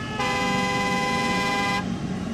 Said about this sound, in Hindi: आज हमने प्रेशर हॉर्न का एक कान खोलने वाला डीएनए टेस्ट किया है।